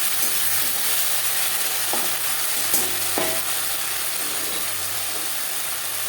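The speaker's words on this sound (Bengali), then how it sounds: "তিন 4 মিনিট পেঁয়াজ ভেজে নেওয়ার পর দিয়ে দেবো আদা বাটা, কাঁচা লঙ্কা বাটা।" Ginger paste and green chilli paste frying with onions for mochar ghonto, a loud steady hiss of sizzling oil with a few knocks of a spatula stirring, close and without talk.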